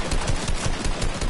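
Rapid automatic gunfire in Fortnite, a continuous burst of close, crackling shots with a steady rattling rhythm and no talk.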